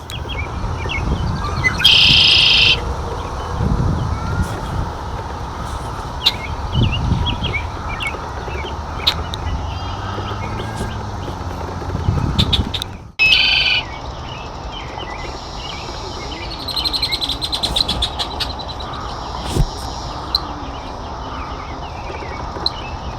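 Male red-winged blackbird singing in mating season at a lakeside, with loud, buzzy trilled song bursts repeating every several seconds over steady outdoor background noise and other chirping birds, with no talking.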